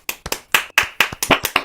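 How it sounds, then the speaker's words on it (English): A few pairs of hands clap for Stephen Martin at a small virtual open mike, sparse close-up claps in an uneven rhythm, about a dozen sharp smacks over a couple of seconds. "let's have a round of applause for Stephen Martin"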